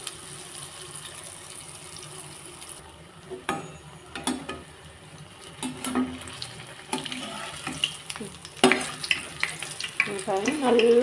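Sweet bondas made with palm jaggery fry in oil over a low flame, a soft bubbling crackle that grows busier and more sputtery toward the end, with occasional stirring clinks.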